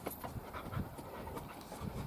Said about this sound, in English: Excuse the panting, that's not me, that's the dog.